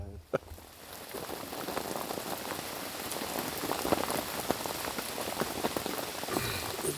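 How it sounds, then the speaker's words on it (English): Steady rain pours down at a lakeside fishing spot in Devon, a dense continuous patter of drops on a surface, close and fairly loud throughout. "It just won't stop raining."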